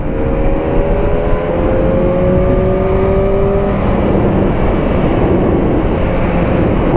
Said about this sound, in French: Ça fait un tout petit peu plus de son que l'échappement d'origine.